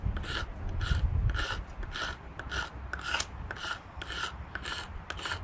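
A chunky fixed-blade HARNDS Thor knife shaves thin curls off a piece of wood for kindling, giving close, steady rhythmic scraping strokes, roughly two per second, with no voice.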